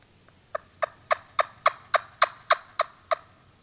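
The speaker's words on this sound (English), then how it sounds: "I just heard him gobble one more time up there." A wild turkey gobbles in a national forest, a run of about ten sharp, evenly spaced calls rising and then easing off, fairly distant and alone over quiet woodland.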